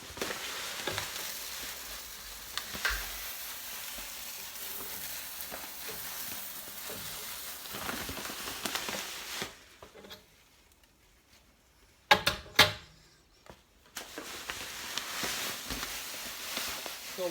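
Grains stirred into the mash in a BrewTools B80pro brewing system, a close wet churning and scraping rustle that breaks off into near silence, with a few sharp knocks, before resuming.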